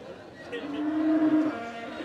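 Bullocks lowing at the Chandina cattle market in Cumilla: one drawn-out, fairly close moo rising over a low market murmur.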